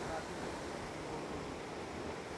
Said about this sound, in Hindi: देख यहाँ हूँ भाई वाटरफल यहाँ हूँ सानपरी वाटरफल